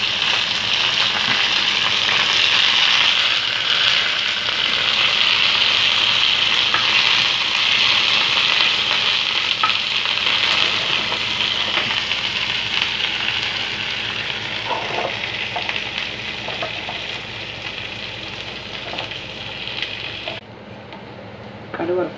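Mustard seeds, shallots, curry leaves and dried chilies fry in hot oil for a Kerala erissery, a loud continuous hiss and crackle with scattered pops that eases slightly before stopping abruptly near the end.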